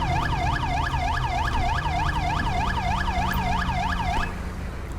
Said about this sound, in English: we're going to go and shut the siren off